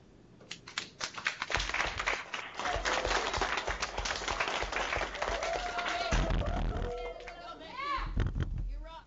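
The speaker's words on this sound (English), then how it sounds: "give a warm round of applause" Applause welcoming a Pro Football Hall of Famer, building from scattered claps into steady clapping with cheers and voices mixed in, fairly close, with a few whoops near the end.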